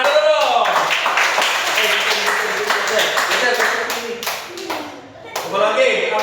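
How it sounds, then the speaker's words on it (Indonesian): A group, likely children in a class, claps hands together in a ragged burst of applause that runs for several seconds and dips briefly before picking up again, with voices talking and calling over it. "Tepuk tangan dulu dong."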